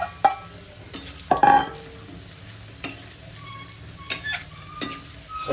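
Coriander muthiya tossed into hot oil with sesame, cumin and carom seeds, giving a steady sizzle and fry broken by a few sharp clinks and scrapes of a spoon stirring in the pan.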